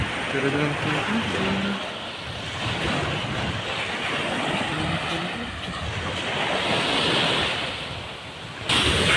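Steady roar of sea surf on the Bulgarian coast with wind buffeting the microphone, continuous and loud, with faint voices underneath.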